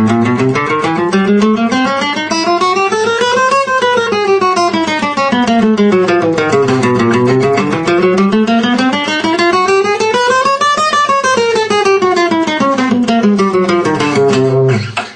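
An electric-sounding guitar plays a fast finger exercise, notes climbing and descending across the strings in steady runs, loud and continuous.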